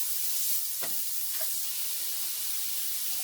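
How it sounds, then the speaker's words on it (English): Jimmy Dean sausage sizzles steadily in a hot pan, a loud continuous hiss with a couple of brief scraping stirs early on and no talk. "I'll go ahead and just give that a stir."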